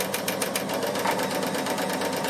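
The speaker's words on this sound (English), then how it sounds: "So just sew your fringing." A Bernina sewing machine runs steadily as it stitches fringing, giving a fast, even mechanical whirr with rapid needle ticks that stays close and constant throughout.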